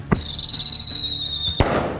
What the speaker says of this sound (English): it just makes giant loud blast to scare off birds off your crops